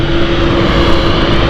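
Commercial airliner engines droning loudly at London City Airport, a constant close roar with a steady tonal hum running through it.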